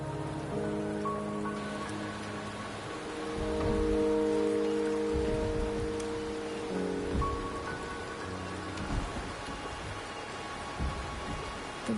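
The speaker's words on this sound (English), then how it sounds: "The rain is subsiding, and the sky will soon clear." Steady rain falls continuously as a dense, even hiss of drops with a low rumbling undertone that swells briefly, no voices present.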